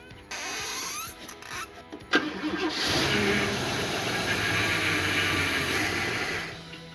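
A Ford Falcon Fairmont left in a shipping container cranks with a few uneven bursts, then fires and settles into a steady idle for several seconds, close and fairly loud, no voices.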